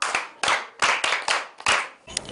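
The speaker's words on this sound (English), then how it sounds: "let's clap for her" A handful of people at a school clap for a girl in a short burst of sharp, uneven claps, close and fairly loud, with brief gaps between the sharp hand strikes.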